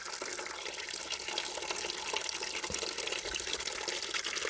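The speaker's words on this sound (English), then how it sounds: "we all know what would happen with this stream of water and a bucket with a hole in it" Steady stream of water pours into a bucket with a continuous hissing, splashing rush, close and even throughout with no talking.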